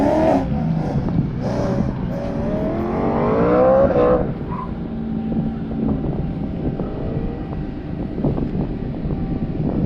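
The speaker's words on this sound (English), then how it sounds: "Here comes Mike Martin's GT3 RS finishing up his run," A Porsche GT3 RS race car finishes an autocross run at the 2021 Grissom AFB event, its engine note climbing in pitch over several seconds and then dropping away, with gusty wind buffeting the microphone.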